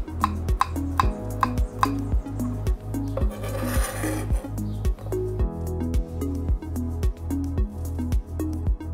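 A knife chops vegetable slices into small, even squares on a cutting board, making a steady rhythmic series of crisp, close taps with a brief scraping rasp partway through.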